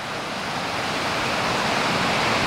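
A creek flows past a campsite, giving a steady, close rush of water with broad hiss and no voices, holding at a constant level throughout.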